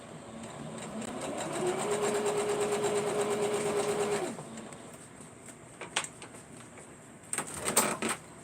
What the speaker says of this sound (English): after I get done sewing these down.